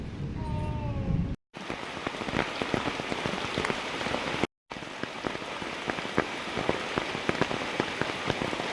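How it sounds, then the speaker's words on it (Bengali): Heavy rain falls steadily and loudly on surfaces in a village home, a dense, continuous patter of drops with two brief silent breaks. "এত বৃষ্টি হচ্ছে"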